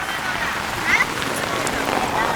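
Rain falls on farm fields in Konkan, a steady close hiss of drops with people talking over it.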